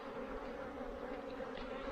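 Honey bees drone in a faint, continuous buzz around an open, productive hive with brood in the honey super.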